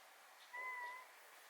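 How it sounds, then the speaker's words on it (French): A pet cat lets out a single faint, short meow partway through, close by in an otherwise quiet room with no talking. "C'est mon minou qui s'en vient."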